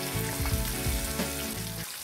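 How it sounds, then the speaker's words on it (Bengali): Katla fish pieces frying in a generous amount of hot oil until light brown, with a loud continuous sizzle and crackle, some clattering of a utensil, and no talk. "বাদামি করে ভাজব, খুব বেশি কড়া ভাজব না।"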